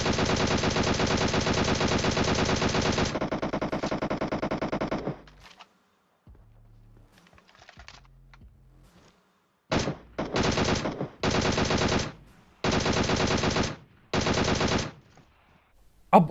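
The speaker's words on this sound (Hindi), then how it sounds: "गोली तो ये वैसे भी चला ही रहे थे अभी भी" Loud, close bursts of automatic gunfire in the battle royale video game PUBG: a long sustained volley, a pause with faint shots, then four short rapid bursts in quick succession.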